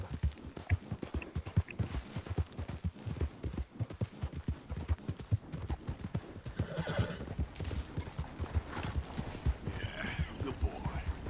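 Horse hooves clip-clop in Red Dead Redemption 2, a quick steady trotting rhythm heard close throughout, with a horse whinnying briefly partway through.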